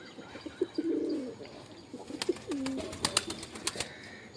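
Pigeons cooing in a home loft, repeated low throaty coos close by, joined by sharp chirps, faint rustling and a few light clicks toward the end, with no talk.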